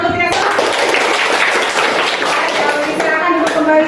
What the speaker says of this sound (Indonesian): Iya, tepuk tangan untuk kita semua.